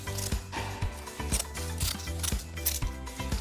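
Scissors or a cutter slicing folded paper, a run of repeated crisp snips and scraping cuts in an even rhythm, close up with no talking.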